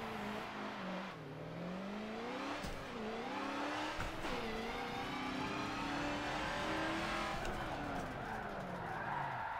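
JTP Mustang Formula Drift car in the Forza Motorsport 7 video game, its engine revving high and continuously with pitch swings as it drifts, and tire squeal throughout.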